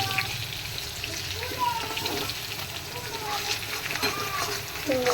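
Spices and Kashmiri chili sizzling in hot oil for a Bengali tomato fish curry, a steady frying hiss with stirring scrapes throughout, while a voice talks over it.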